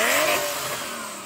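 Engine of a Porsche 911 Turbo of the 993 generation, heard loud and close as a sustained rev that peaks and then slowly falls away in pitch.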